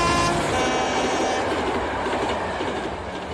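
An Indian Railways train rolls along the tracks, a loud steady rumble with clickety-clack of the wheels and a faint high whine, close and continuous.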